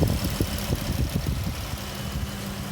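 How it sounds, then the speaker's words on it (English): A 2017 Dodge Challenger GT AWD engine hums steadily from inside the cabin, a low, continuous drone with throbbing pulses under road noise. "once you hit the gas, you hear the engine. The engine sounds great."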